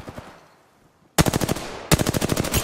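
Automatic weapon fire from the player in a shooter video game: after a faint trailing burst and near-silence, two loud close bursts of rapid evenly spaced shots follow.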